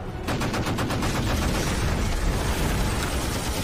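In a WW2 film, German and Allied ships exchange gunfire: rapid bursts of shots and heavy blasts run together into a loud, continuous barrage with no voices.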